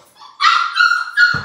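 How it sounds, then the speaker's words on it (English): Labrador puppy crying in high, wavering whimpers and yips, loud and close, ending in a short lower rough sound. "What are we crying about, Chatless?"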